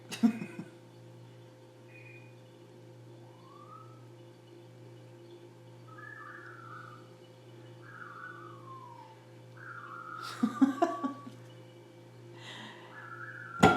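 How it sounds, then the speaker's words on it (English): A few short whistled calls from an African grey parrot, rising and falling, sound faintly at intervals over a low steady hum, with scattered clunks and knocks toward the end. "that would be our African gray parrot Joe"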